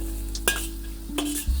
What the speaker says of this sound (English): I need to hear this sizzle a little bit.